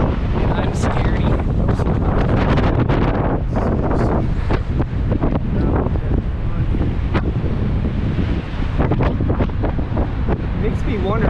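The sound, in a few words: strong wind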